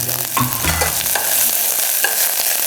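Ginger, shallots, scallions and cilantro dropped into hot oil, giving a loud, steady sizzle with a few bursts of stirring and scraping in the pan, close up and with no talking.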